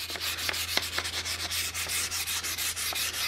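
Hand sanding of a wooden gunstock with 400 grit sandpaper: a steady, close run of soft rhythmic scratching strokes, with no voices.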